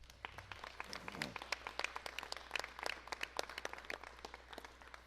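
A debate audience claps for the mayoral candidates, a dense patter of handclaps sustained across the whole stretch, fairly distant and soft, with a brief voice near the start.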